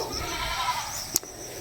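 A lame, wounded pet goat, bleeding at the leg after a dog attack, gives a short, thin bleat close by over a low background.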